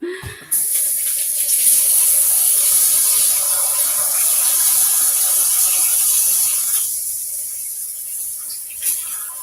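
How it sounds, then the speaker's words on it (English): Tap water gushing loudly into a kitchen sink while hands are rinsed, starting abruptly and running as a steady close hiss, then easing slightly near the end. "Let me rinse my hands off."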